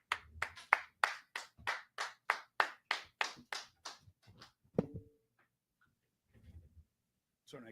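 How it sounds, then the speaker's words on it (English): Small gathering at a Durham brotherhood class clapping in unison, about a dozen evenly spaced, sharp claps that then taper off into a few scattered claps and near quiet. "Clap it up."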